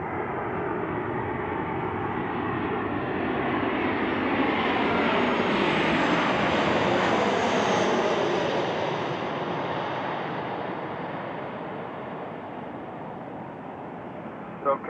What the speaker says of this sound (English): Got a heavy jet already ready to depart.